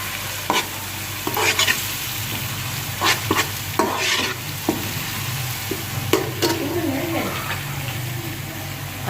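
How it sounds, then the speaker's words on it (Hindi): Garlic and ginger frying in a pan, a steady sizzle with intermittent stirring scrapes, close and fairly loud with no voices. "हम इसमें लहसुन और अदरक हमेशा अलग अलग हमें फ्राई करने चाहिए"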